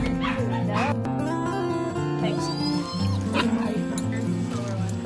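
Several dogs bark and yip excitedly as they pile out of a van onto a trail with their dog walkers, sharp yelps overlapping throughout, with people talking over the commotion.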